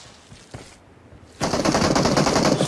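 Rapid automatic gunfire bursts loud and dense after a quieter stretch of faint noise, sustained volleys filling the end of the scene in an Indonesian TV drama.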